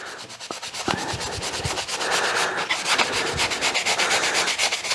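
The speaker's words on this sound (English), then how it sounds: "And we're just going to scrub these down." Chisels are scrubbed with tool cleaner in quick, rhythmic rubbing strokes, a dense, even scratching close by with a few light knocks near the start.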